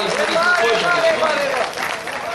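An audience at a mushaira, an Urdu poetry gathering in Etah, breaks into applause, a dense burst of clapping that fills the space briefly and then thins out.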